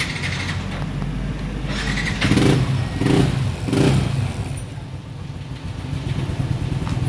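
A Yamaha Nmax 155 scooter engine idles steadily after a fuel pump repair, with three brief, louder revs in the middle before settling back to a constant running hum. No one speaks.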